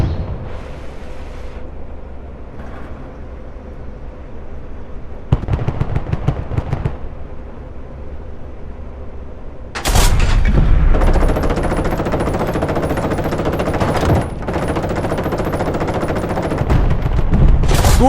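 Intense gunfire from Call to Arms: Panzer Elite, a tank combat video game, with rapid machine-gun bursts and heavy cannon blasts. A quieter stretch leads into sustained, dense, loud firing with brief pauses.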